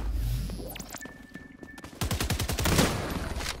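Rapid gunfire in the XDefiant shooter game, with a burst early on and then a dense, loud string of automatic shots close up, with no one talking.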